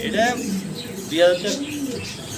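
Pigeons at a market stall give soft, close coos in two short rounds, with faint talk around them.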